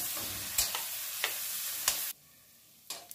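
Onion, garlic, ginger and green chili sizzle steadily in hot oil while a utensil stirs them in a few scraping strokes; the sizzle cuts out briefly near the end, then returns.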